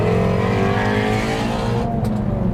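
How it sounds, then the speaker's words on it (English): Ford Mustang Shelby GT350 V8 revving hard and downshifting, a loud, deep, continuous engine roar with rising and falling pitch that drops off sharply near the end, close to the microphone with no talking. "And Yuri, let's do some Mustang things with some downshifts and some more revs because I cannot get enough of these engine sounds."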